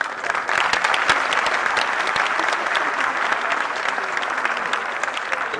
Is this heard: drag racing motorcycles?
no